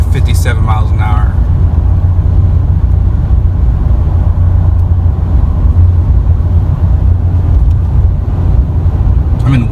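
A 2019 RAM 2500 Heavy Duty Tradesman pickup with an 8-speed transmission cruising steadily in 8th gear, a constant low engine and road drone from inside the cab with wind noise.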